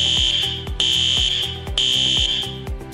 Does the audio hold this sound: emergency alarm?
yes